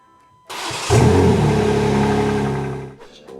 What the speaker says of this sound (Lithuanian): uždarėm dureles, užkūrėm variklį